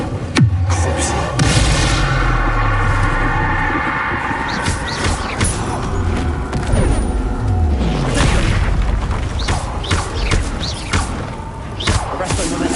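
Spell explosions from a Harry Potter video game: heavy, booming blasts and thuds land one after another in a dense, loud stream with crashing impacts, and a voice is faintly present underneath.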